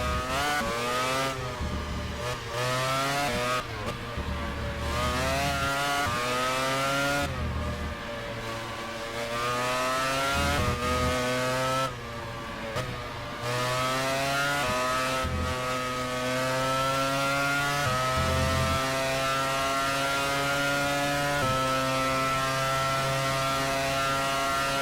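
Race car engine in the rFactor racing game on a lap of Autodromo Hermanos Rodriguez in Mexico, a loud steady whine rising through the gears with brief dips at shifts and braking, continuous and alone.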